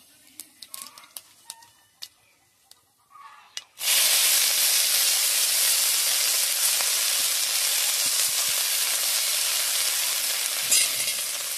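Gima greens and potato hit hot oil in a pan, opening with a few faint clinks before a sudden loud, steady sizzle and hiss that continues close up to the end, with no talk.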